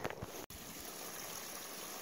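Flowing stream water at a trail water source on the Appalachian Trail, a steady, fairly faint rush of running water heard alone with a brief dropout near the start.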